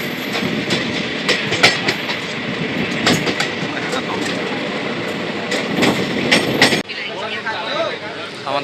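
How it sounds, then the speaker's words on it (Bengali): The 14235 Up Bareilly Express on the Varanasi to Ayodhya run rolls along with a rhythmic clickety-clack over a continuous rumble, close and fairly loud, while people talk beneath it; near the end the noise changes abruptly. "ট্রেন চলে এসছে"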